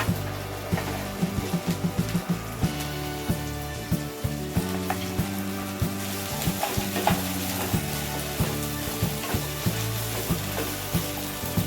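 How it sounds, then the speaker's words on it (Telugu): Okra (bendakaya) fries in a spoonful of hot oil in a kadai, a steady close sizzle with regular light knocks and scrapes of stirring throughout. "ఇప్పుడు కడాయి వేడైంది కదా, 1 స్పూను ఆయిల్ వేసుకొని బెండకాయలు వేసుకుందాము."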